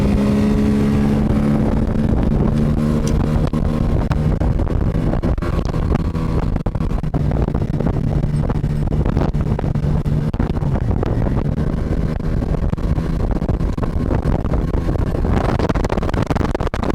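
A loud, steady two-stroke outboard motor drones continuously as a boat runs over waves, with wind buffeting the microphone.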